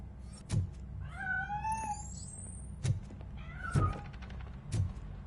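A cat escaping from a piano meows in rising, drawn-out calls, with several sharp knocks and thumps scattered among the cries, all fairly faint and without talk.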